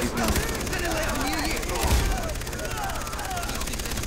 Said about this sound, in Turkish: Adam tarıyor ya. Anam silah ısınıyor.